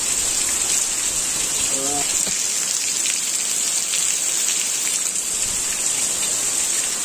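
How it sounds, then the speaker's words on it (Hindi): Heavy rain pours down at night, a dense, loud, steady hiss and wash of water that fills the whole stretch, with a brief voice sounding faintly beneath it early on. "बारिश भाई साहब इतना खतरनाक बारिश हो रहा है"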